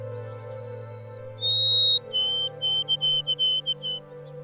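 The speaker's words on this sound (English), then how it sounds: "It is one of the few birds that are known to whistle." White-throated sparrow whistling in the Appalachian Mountains: clear, pure, high whistled notes, two long held tones followed by a quicker series of short repeated ones, over a steady low hum.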